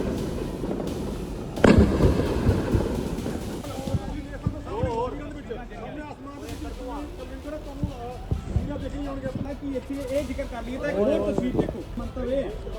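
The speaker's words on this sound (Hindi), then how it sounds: "और धमाकों को आप सुन सकते हैं।" Several loud explosions, one especially sharp early on, ring out amid chaotic background noise while voices talk throughout, during India–Pakistan hostilities in Punjab.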